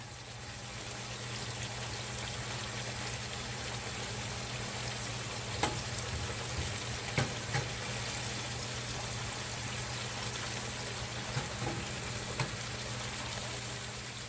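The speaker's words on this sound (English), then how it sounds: "keep the heat at medium until the onions are browned" Onions frying in a pan of hot oil over medium heat, a steady continuous sizzle with occasional small pops and crackles, close and even throughout.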